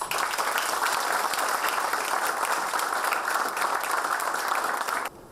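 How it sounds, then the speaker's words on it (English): A large crowd at an orientation programme's inaugural session applauds loudly and steadily, dense clapping holding at full strength before cutting off abruptly near the end. "join me in welcoming Mr. Kaushal Sampath with a huge round of applause."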